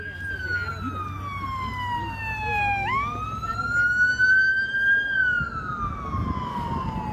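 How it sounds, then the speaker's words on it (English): A single wailing siren rises and falls slowly, loud and fairly close, over the low rumble of traffic at a city park amphitheater. "We got sirens going off too."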